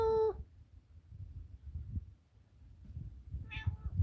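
A cat on a farm lets out a short meow at the start and another brief meow a few seconds later, both fairly close, over a low background rumble.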